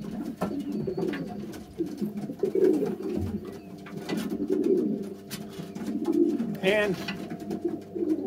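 Racing pigeons coo in repeated low, throaty bursts nearby after a young bird race, with a few brief spoken words and background rustling.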